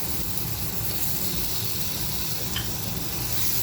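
Fish fry in oil with spice masala, a dense, even sizzle and hiss filling the pan close to the microphone, with no talking.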